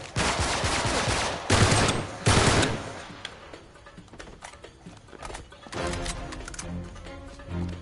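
AK assault rifles fire in the action game Uncharted in loud bursts of automatic gunfire early on, then sporadic, fainter shots and clattering in a busy firefight.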